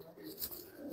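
Rampuri Indian pigeon held in a handler's hand, cooing softly and steadily with a faint, continuous murmur and slight chirps, heard close and fairly quiet.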